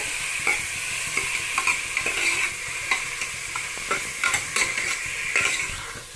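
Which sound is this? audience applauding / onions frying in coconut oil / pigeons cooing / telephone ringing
onions frying in coconut oil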